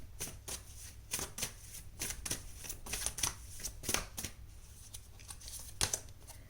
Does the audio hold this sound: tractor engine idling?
no